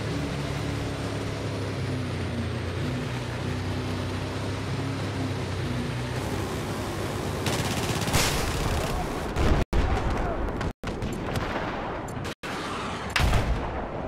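Rapid bursts of gunfire and booming explosions fill a video game battle around a boat, dense and continuous with a steady engine-like rumble underneath, growing sharper and harsher in the second half.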